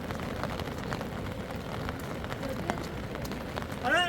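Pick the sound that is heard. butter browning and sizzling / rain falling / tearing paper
rain falling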